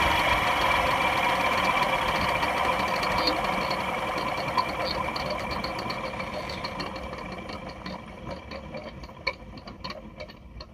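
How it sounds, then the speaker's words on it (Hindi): Steady mechanical whirring from a Maruti Brezza engine bay just after switching off, with a broken fan suspected and low engine oil and coolant; the hum stays continuous and fairly loud, slowly fading with faint ticking toward the end. "जब भी हम गाड़ी को बंद करेंगे ना तो एक फैन चलने जैसी आवाज आती है"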